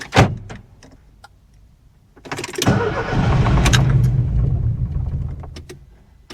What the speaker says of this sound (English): Fires, runs a half a second, then dies.